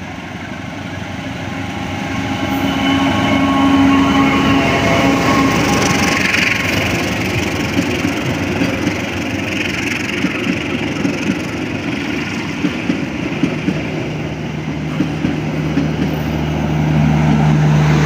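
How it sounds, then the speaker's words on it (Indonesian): The Majapahit passenger train from Malang bound for Pasar Senen rolls along a busy Jakarta railway line near the Matraman junction, a loud, steady rumble of engine and wheels that holds for the whole stretch. "kereta api Majapahit dari stasiun Malang, tujuan akhir stasiun Pasar Senen."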